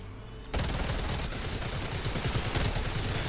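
A new weapon in a Spider-Man versus Predator armies video game unleashes rapid automatic fire. It starts abruptly and continues as a loud, dense, unbroken stream of shots to the end.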